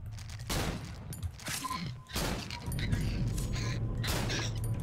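Gunfire in the horror video game Cry of Fear, a loud, dense run of shots and bursts with crashing impacts that continues almost without pause.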